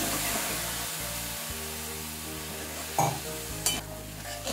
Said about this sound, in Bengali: আদা বাটাটা দিয়ে ডালটা একটু কষিয়ে নিচ্ছি।